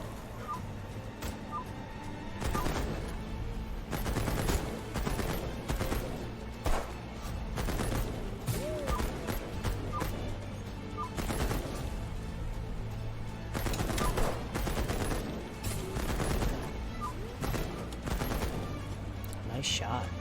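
Rapid gunfire and bursts of shots in the first-person shooter Headcount, dense and continuous across the scene, with a voice talking over it.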